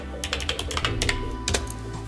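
Rapid keystrokes on a computer keyboard, an irregular run of light clicks close by, with a brief burst of faster taps partway through and a steady low hum underneath; no one speaks.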